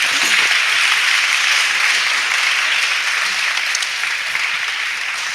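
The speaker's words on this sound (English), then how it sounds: "let's give Susan another round of applause" A conference audience at a 2018 leadership forum applauds, dense steady clapping from many hands, loud and sustained before gradually thinning out.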